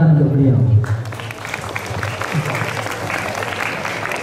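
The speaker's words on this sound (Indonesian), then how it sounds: "tepuk tangan untuk beliau" After a brief spoken line, a school gathering's audience breaks into sustained applause for Ustadz Rizal Kurniawan at an Islamic New Year 1446 H religious assembly at SMA Negeri 4 Bojonegoro, a dense, even clatter of many hands.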